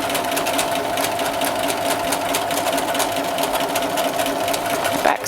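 A sewing machine back stitching bias tape, a close, fast, steady mechanical whir with rapid needle ticking running continuously for about five seconds before a brief slowdown at the end.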